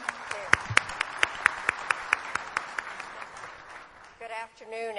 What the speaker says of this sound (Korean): 자, 여러분 다시 한번 따뜻한 박수로 환영해 주십시오.